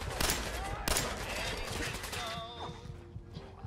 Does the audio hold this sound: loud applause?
no